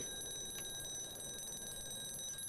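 In the atmospheric horror game Casting Whispers, a persistent alarm keeps ringing in sustained high-pitched tones, unbroken across the moment, with a brief soft click early on and a low background hum beneath.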